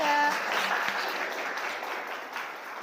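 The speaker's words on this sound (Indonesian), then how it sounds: "beri aplaus dulu untuk kelompok 3" Classroom applause for a student group during a physics lesson at a teacher training session, a dense steady clatter of many hands clapping together, sustained at even loudness throughout.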